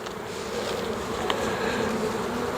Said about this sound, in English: There's bees all over the place. This was really a full hive.